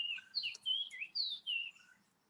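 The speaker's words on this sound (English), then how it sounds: "Somebody's got some really sweet birds in their yard." Songbirds singing in a yard, a run of clear high warbling phrases and chirps in quick succession, faint and a little distant, heard alone with no talking.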